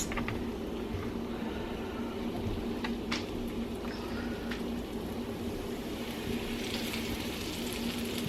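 Cube steaks brown in a frying pan on a stovetop with a steady, close sizzle of hot fat, punctuated by a few sharp crackles and pops, with no one talking.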